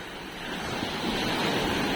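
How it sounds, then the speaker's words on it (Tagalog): Sea waves at high tide wash in as a steady, close roar of surf mixed with wind. "Mataas yun ang dagat ay high tide."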